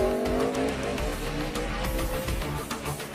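A McLaren Formula One engine of over 800 horsepower screams at up to 18,000 RPM, loud and close, a continuous piercing whine that never lets up, at Watkins Glen.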